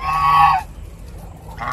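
Geese honk loudly and close for about half a second with a harmonic, nasal call, then a quieter farmyard pause before another honk or crow rises at the end. The birds are geese and roosters kept on a small farm.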